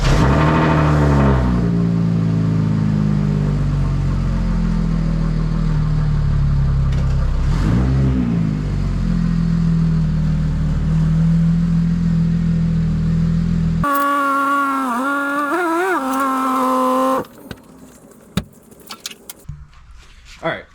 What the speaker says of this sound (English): So I'm gonna pull the car out of the garage and then I'll explain.